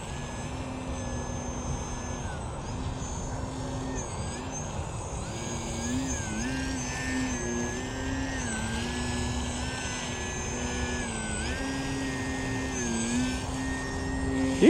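A foam RC model airplane flies 3D aerobatics, its small electric motor whining and shifting pitch repeatedly as the throttle rises and falls, moderately near and steady with no speech.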